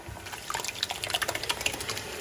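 Canned tomatoes pour from cut-open bags into a cooking pot, a soft, close wet splashing and glugging that stays fairly quiet and continuous.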